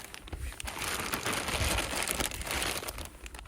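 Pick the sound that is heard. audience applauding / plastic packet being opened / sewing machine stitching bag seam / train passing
plastic packet being opened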